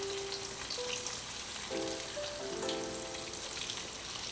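Eggs fry in a pan with a soft, steady sizzle and hiss throughout, with faint tonal whines drifting underneath and no voices.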